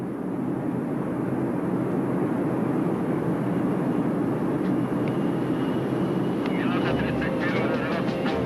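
A Soviet military transport aircraft carrying paratroops drones steadily in flight, a loud continuous engine roar heard from inside the cabin throughout.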